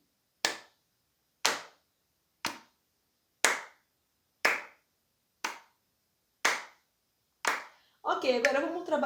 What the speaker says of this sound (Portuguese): se eu for usar o meu corpo, palmas